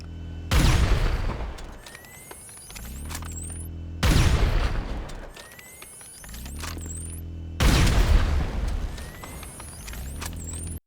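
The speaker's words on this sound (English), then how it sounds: "now look what happens when we blast it with a railgun" Railgun shots strike an armored vehicle in a video game, three heavy booming impacts a few seconds apart, each followed by a rumbling decay and a rising metallic whine, loud and with no voices.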